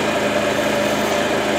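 A motorcycle engine idles steadily at low revs, close and constant, with a fault showing at idle during a current-draw and leakage check.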